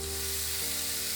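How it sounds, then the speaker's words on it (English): Dried daikon radish sizzles steadily as it fries in oil in a frying pan, a close, continuous crackle with no pauses or talk. "Add dried daikon radish and fry to remove water."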